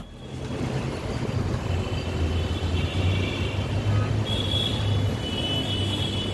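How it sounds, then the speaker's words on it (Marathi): Continuous road traffic rumbles at the large Nana Chowk junction near Grant Road in Mumbai: a steady, dense roar of cars and heavier vehicles with a faint high hiss, no voices. "किती इथे कंटिन्युअस ट्रॅफिक चालूच आहे."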